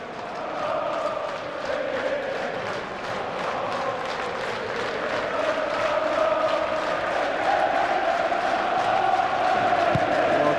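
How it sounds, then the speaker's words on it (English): Scottish crowd at a 1997 Scotland v Estonia football match, a large stadium roar of cheering and chanting swelling steadily, with a commentator's voice faintly over it. "good support from the Scottish crowd here"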